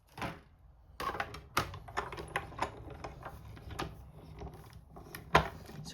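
A die-cutting machine cuts out a walrus pocket tag with a die, giving a series of close, sharp clicks and clunks at an irregular pace over a quiet room.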